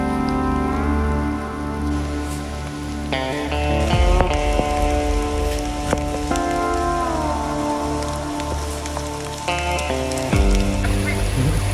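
Steady rain falls on the forest trail of Mount Salak, with a dense, continuous patter and drips around the stop at a trail post. Brief bursts of nearby movement and talk are mixed in.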